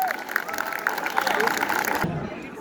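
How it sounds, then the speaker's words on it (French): Brief applause from an audience for a brass band at a fanfare's 90th anniversary celebration in Guipry-Messac, a short burst of clapping and crowd noise that stops abruptly after two seconds. "les applaudir bien bien fort."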